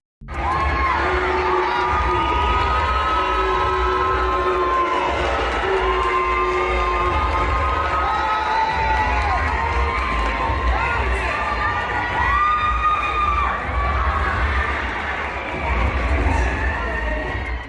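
A packed arena crowd at a WNBA Indiana Fever game roars with sustained cheering and scattered whistles and shouts, a dense, loud wall of noise that never lets up.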